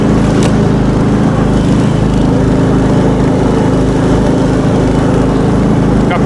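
An Albatros KhLV9 motorized towing sled is driven along a ski track at medium revs. Its small engine drones loud and close with a steady buzzing rumble, uninterrupted and with no talk.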